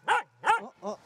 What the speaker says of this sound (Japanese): そば寄ってきて吠えてくれるあんたらしい